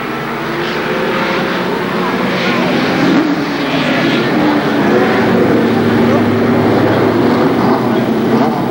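Race cars circle the Columbus Motor Speedway oval during a 1994 main event, a loud, steady engine roar with slowly shifting pitch from several cars at once.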